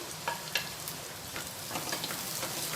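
Thinly sliced onions and curry leaves sizzling in hot oil in a pan, with a short steady frying hiss and a few sharp crackles up close.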